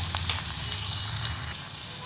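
Chopped onion frying as tadka in a pan of hot oil for a green pea dal, a close, steady sizzle with crackling spits that eases slightly near the end.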